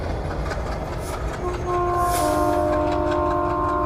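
The Punjab Mail train pulls into Ferozepur Cantt station, a loud steady rumble of rail cars with a sustained horn tone rising over it in the second half.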